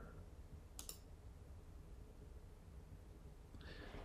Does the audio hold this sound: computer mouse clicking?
yes